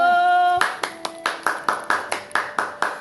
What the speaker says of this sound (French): Applaudissez pour elle. Applaudissez.